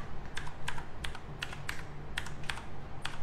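Keystrokes on a Gameone mechanical keyboard come in a steady run of sharp clicky taps, close and fairly loud over a low background hum, with no voices.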